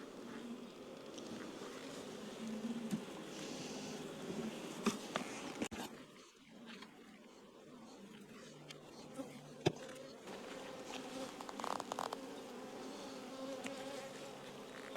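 Honeybees from a nuc hum steadily in a newly set-up hive, a dense, continuous buzz that dips briefly partway through. Sharp clicks and handling knocks break in over the buzz.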